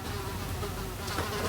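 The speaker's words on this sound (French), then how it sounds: "Il y a une mouche là." A housefly buzzes continuously and close up indoors, a steady droning hum that swells slightly toward the end with no speech over it.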